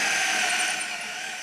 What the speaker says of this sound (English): now we're going to drill into the wood